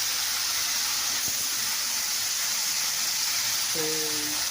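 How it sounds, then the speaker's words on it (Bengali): Fish frying in a hot pan, with a steady dense sizzle and hiss of spattering oil throughout, fairly loud and continuous, no talk. "এই মাছটা খুব ফোটে, আমি এটা দিয়ে একটু চাপা দিয়ে দেবো।"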